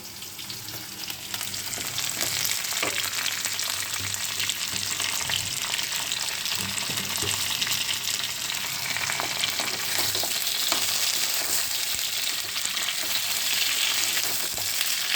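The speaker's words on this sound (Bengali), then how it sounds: "আর আবার ভালো করে একসাথে ভেজে নেবো" Cabbage, onion and capsicum stir-fry in a hot wok, making a loud, continuous sizzle and crackle with faint stirring scrapes, and no talking.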